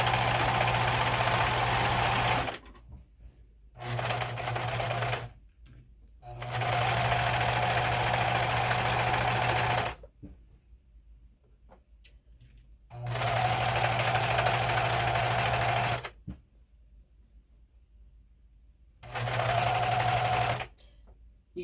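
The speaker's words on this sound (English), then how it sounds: "my serger so that the ends are really nice, and because this material really frays" Serger sewing machine finishing the edges of fraying fabric, running in several loud, steady bursts of rapid mechanical whirring separated by short pauses.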